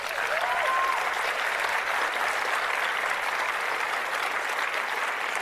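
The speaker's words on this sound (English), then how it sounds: "can we give her a quick hand?" Steady, sustained applause from a keynote audience at a corporate conference's diversity and inclusion session, many hands clapping evenly with no break throughout.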